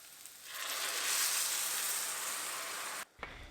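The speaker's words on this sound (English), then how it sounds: "Sauté the washed and drained rice in plentiful of butter" Washed, drained rice sautéing in plenty of butter for a traditional Turkish Eid dish, a soft continuous sizzle that rises gently, holds steady for a few seconds, then cuts off abruptly before a brief faint clatter.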